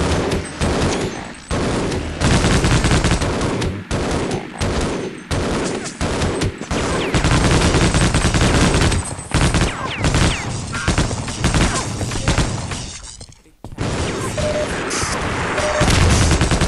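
Heavy machine gun fire from a big gun in the video game Half-Life: Opposing Force, loud and nearly continuous bursts with booming impacts, briefly cutting out near the end before resuming, with no talk over it.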